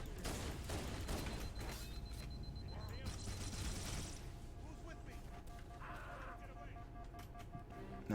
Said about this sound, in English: Man, those turrets aren't anything to fuck with.